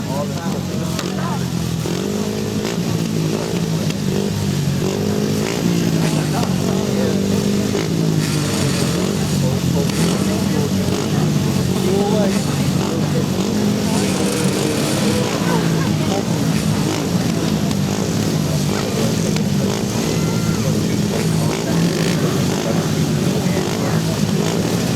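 250cc grasstrack motorcycles race at a meeting, a continuous loud roar of engines rising and falling as bikes pass, with a voice talking over the racing throughout.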